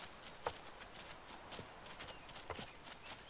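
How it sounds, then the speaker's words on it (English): Animal footsteps in a hunting video game: a few soft, distant hoof-like steps with irregular spacing, faint against a steady outdoor ambience. "Is that footsteps?"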